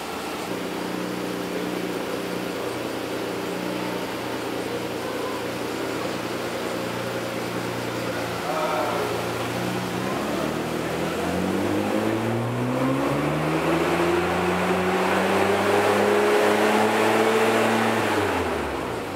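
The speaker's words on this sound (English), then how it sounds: "Now they're measuring the decibels of the exhaust." A car's exhaust drones steadily during an emissions decibel test, then the engine revs up with rising pitch partway through, holding a loud, close, sustained roar without any talking.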